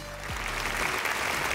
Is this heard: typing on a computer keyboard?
no